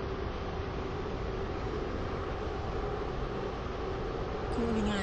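Roblox train pulling into St. Helens Bridge station, a steady rumbling drone of rolling coaches with a faint tonal hum, brief higher squeal near the end as it slows.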